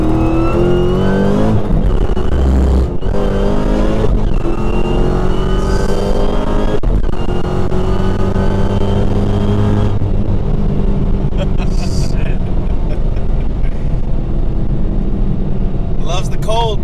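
A 900+ wheel-horsepower Hellcat revs hard with its wheels spinning on slick, cold ground, a loud sustained engine roar rising and falling across several bursts, with people talking inside the car over it.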